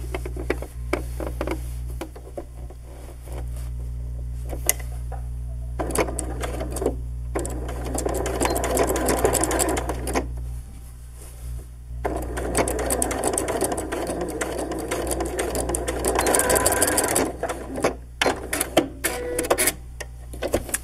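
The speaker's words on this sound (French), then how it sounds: "Ici, je m'en viens coudre de là à là." A sewing machine stitches fabric for a New York-style hoodie in several loud, steady runs of rapid mechanical whirring, broken by short pauses between seams.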